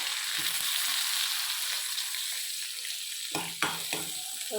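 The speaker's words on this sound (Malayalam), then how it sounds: "ഉള്ളി ഒന്ന് ഇട്ടിട്ട് വഴറ്റിയെടുക്കാം." Onions sizzle steadily in a hot pan, a constant crackling hiss, with a few scraping stirs near the end.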